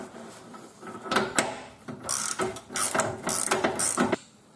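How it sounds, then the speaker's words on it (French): A wrench ratchets as it tightens the nut on a riveted car suspension ball joint, a 21 mm spanner above and 30 mm below, giving a series of short metallic clicks and grinding bursts, close and fairly quiet, with no speech. "Donc on place l'écrou au-dessus et on serre."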